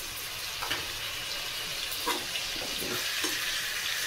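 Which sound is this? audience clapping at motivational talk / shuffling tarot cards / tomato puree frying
tomato puree frying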